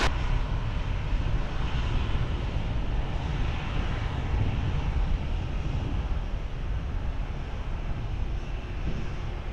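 A Boeing 737 departing Lisbon Airport, its jet engines a broad, steady roar heard from a distance, constant throughout and mixed with light wind noise on the microphone.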